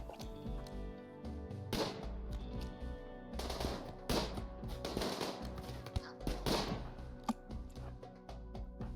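Gunfire in the colony game RimWorld: irregular bursts of rapid shots and sharp single cracks, fairly close and steady over a constant background, with occasional faint talk.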